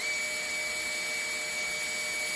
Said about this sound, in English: put this in your drill, and run it into the seat, up and down a little bit